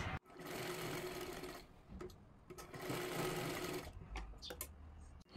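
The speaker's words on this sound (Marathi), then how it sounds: "इथे एक व्यवस्थित शिलाई करून घ्यायची आहे" A sewing machine stitches a Matka-style blouse in two close, steady whirring runs separated by a short pause, followed by a few brief clicks and taps as the fabric is adjusted.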